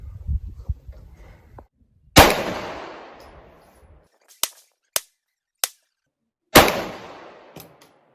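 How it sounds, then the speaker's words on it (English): Five sharp pistol shots from a Glock 48 with a Holosun optic crack out at an outdoor range, spaced unevenly with two louder rings and three quicker, drier reports, after some faint handling at the start. "All right, first 5 rounds, 25 yards with the Holoson."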